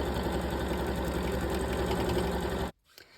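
A sewing machine stitches a quilt block seam in a steady, fast mechanical whir close by, then stops abruptly near the end, leaving a brief quiet handling sound.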